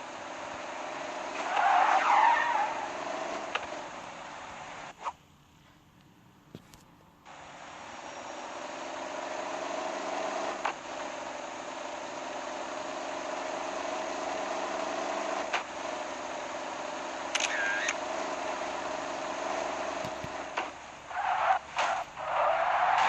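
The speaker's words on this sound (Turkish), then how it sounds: "frene bastığınız zaman araç aşırı derecede savuruyor" In the video game Car Simulator 2, a modified car skids hard under braking, giving sustained tyre screech over a steady engine drone, with a brief drop near five seconds and a few sharper squeals later.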